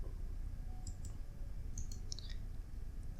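A computer mouse gives a few small, sharp clicks in irregular spacing, faint and close, over a steady low hum of background noise, with no talking.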